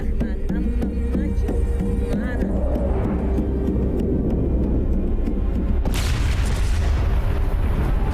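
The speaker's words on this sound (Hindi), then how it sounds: "उधर बम धमाका हुआ है" A bomb blast in an action movie lands as a sudden deep boom partway through, following a stretch of rumbling noise and scattered sharp knocks, with loud bursts throughout.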